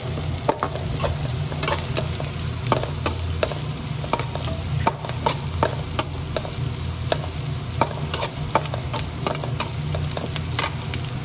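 Onions fry in a pan for a drumstick-leaf curry, a steady close sizzle with frequent sharp scrapes and taps of a spoon stirring, no voices.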